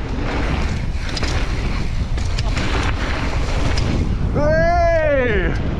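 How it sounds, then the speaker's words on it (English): Wind buffets the microphone outdoors at a mountain bike park, a loud continuous rushing roar, with a voice calling out near the end. "Oh, it's windy."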